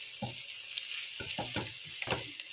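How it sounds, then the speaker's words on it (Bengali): Boiled chicken being stir-fried for chow mein over a very high flame gives off a steady sizzle, with a series of scraping stirring strokes that come close and clear and then stop. "ওই সেদ্ধ চিকেনটা আমি এখানে দিয়ে দিব। আমি মিক্সড করতে থাকবো, আর ফ্লেমটা আমি খুবই হাই ফ্লেমে করছি"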